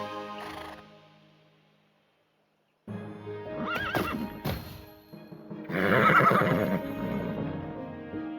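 Horse neighing in Tiny Tina's Wonderlands video game, a short whinny, then a pause before clip-clopping hooves and a loud, drawn-out neigh at close range.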